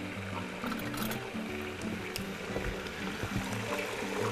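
Onions added to chicken frying in a pan, giving a steady sizzle and bubbling with light scraping, moderately loud and close, with no talk over it.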